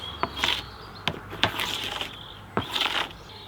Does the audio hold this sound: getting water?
no